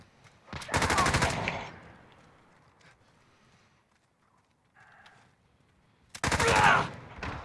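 PKM machine gun fire in Call of Duty Modern Warfare, two loud sustained bursts of rapid automatic shots separated by a quiet gap with faint background game sounds.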